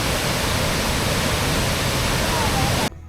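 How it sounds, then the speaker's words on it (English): Champi waterfall near Pakse, Laos, roaring as a loud, steady broadband rush of falling water heard close, cutting off abruptly near the end. "To get to this little waterfall called Champi"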